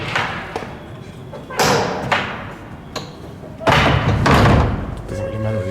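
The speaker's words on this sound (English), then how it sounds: "Just close the door." A door in a hotel suite at the Lalit Laxmi Vilas Palace in Udaipur shuts with several solid thuds and knocks spread across a few seconds, close and fairly loud, with muffled movement and some background voice between impacts.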